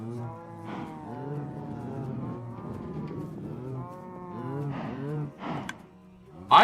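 Several cows moo in a Minecraft game, long drawn-out calls overlapping one after another at close range, with a brief louder burst at the very end.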